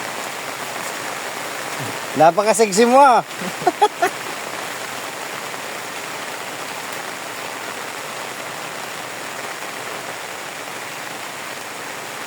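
Steady rain falls outdoors as a constant hiss of drops. A brief burst of voices talking rises near the start and then fades, leaving the downpour alone.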